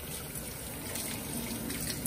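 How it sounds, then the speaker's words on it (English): Tap water runs in a thin, faint stream into a sink while hands are rinsed, a soft continuous trickle with no voices. "Then we rinse them off."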